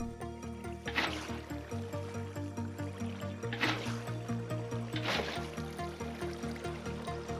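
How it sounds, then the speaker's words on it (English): Water poured from buckets into the four corners of a spawner room in Minecraft, with three brief splashy bursts spaced a couple of seconds apart over steady background music. "Next, fill all 4 corners with water."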